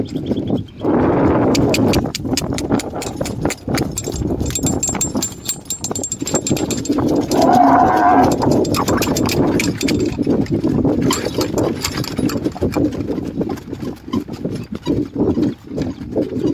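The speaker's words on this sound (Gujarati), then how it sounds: "લાગે બળદગાડું વહી જાય કે ધીમે ધીમે" Oxen slowly haul a bullock cart through a farm field, with steady clip-clop hoof falls and rattling clinks from the cart running continuously and close by, no voices over it.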